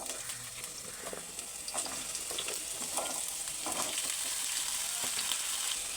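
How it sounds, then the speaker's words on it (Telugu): Bottle gourd pieces frying in oil, a faint, continuous crackling sizzle that stays even throughout, with occasional light stirring. "ఫస్ట్ సొరకాయ వేయించుకుందాం"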